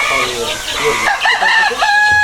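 Fayoumi chickens in a poultry rearing setting: a loud, close rooster crow with clucking around it, plus a brief faint voice.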